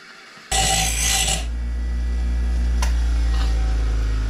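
A grinding tool works down a metal part during gaming chair assembly, giving a sudden loud, harsh burst that then settles into a steady low whirring hum close to the microphone.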